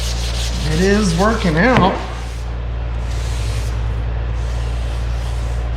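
Sandpaper rubbed by hand over the nose deck and B pillar of a Sixty6, a steady close scratchy rasp that carries through the clip, with a voice speaking over the first part.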